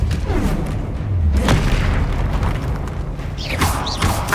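A Depulso spell cast in the Hogwarts Legacy video game, a booming magical blast with a deep thudding low end and whooshing bursts, loud and dense throughout, with further spell effects flaring near the end.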